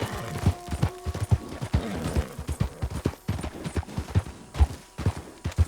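A horse gallops at speed in Red Dead Redemption 2, its hooves thudding in a fast, rhythmic clip-clop close by, with some tack and rustling noise mixed in.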